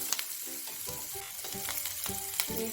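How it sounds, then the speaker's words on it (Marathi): Green chillies fry in a pan over low flame, giving a steady soft sizzle with irregular stirring clicks and scrapes, close and continuous with no talk. "मिरच्या छान प्रकारे आपल्याला परतून घ्यायच्या आहेत"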